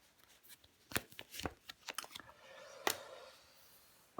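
Tarot cards being handled and laid out produce a string of crisp, close card slaps and soft shuffling rustles at an uneven rhythm, quiet and alone.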